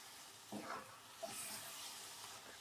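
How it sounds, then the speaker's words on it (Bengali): Almonds sizzle in about a spoonful of ghee for carrot halwa, a faint, quiet fry with a few soft stirring clinks. "আমন্ড একটু দিয়ে দিচ্ছি ঘি দিয়ে দিচ্ছি এক চামচ মতো"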